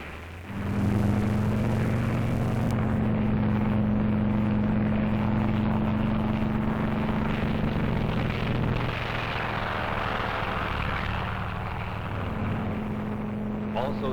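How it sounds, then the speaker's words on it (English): Propeller aircraft engines drone steadily as control planes take off from an aircraft carrier during the Operation Crossroads Bikini atomic tests, a loud continuous roar with shifting pitch and a narrator speaking over it. "Also taking off from the carrier are control planes that will guide the radio-controlled drone boats"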